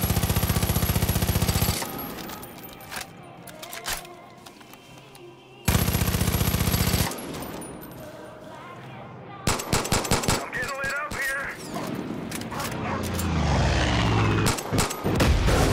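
Repeated loud bursts of machine gun fire in Far Cry 5, rapid rattling volleys broken by short pauses, with scattered booms and brief voices between them.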